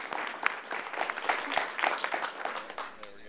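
Audience clapping fills a live comics panel hall, a steady, moderately loud wash of applause with a few voices mixed in.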